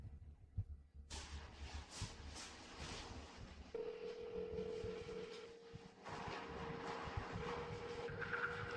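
A telephone rings unanswered, its steady electronic tone pulsing over a low background hum and scattered thumps, fairly faint and continuous, with no one picking up.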